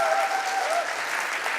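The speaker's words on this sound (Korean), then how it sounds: "박수로 두 사람을 축복해 주면 좋겠습니다." Wedding guests at a church ceremony applaud the newly married couple in a steady, even wash of clapping, with a brief tonal murmur of voices at the start.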